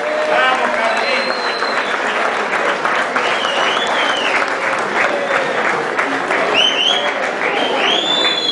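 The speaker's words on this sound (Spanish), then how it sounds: "Y yo les pido un fuerte aplauso" Audience at a fishermen's festival applauds a long-serving radio host, a loud, sustained burst of clapping with cheers and whistles mixed in, heard close and continuous throughout.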